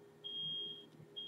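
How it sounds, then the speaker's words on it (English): An electronic beep sounds as a steady high-pitched tone held for most of a second, then starts again briefly, faint and alone with no talking. "I apologize for the beeping"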